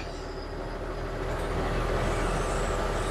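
A loaded truck rolls slowly through a company yard after being weighed. It gives a steady, close, rumbling engine and road drone with a faint hiss that builds slightly, and no voices are heard.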